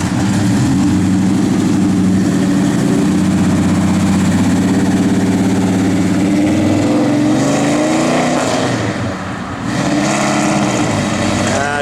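A 1967 Chevrolet Chevelle SS engine droning steadily as it drives, the pitch wavering and dipping briefly near the end where a gear shift is missed.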